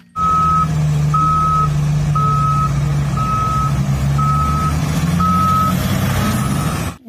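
A toy excavator truck gives a run of seven evenly spaced, high reversing beeps over a steady low motor hum, loud and close, with no talking.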